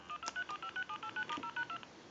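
A quick series of about eleven short electronic DTMF redial tones from an AT&T 530 telephone beeps in an even rhythm, fairly quiet and clean.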